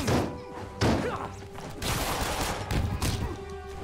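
Gunfire in the video game Marvel's Spider-Man, several sharp loud bursts and thuds at irregular intervals over a busy combat soundscape with impacts and rumble.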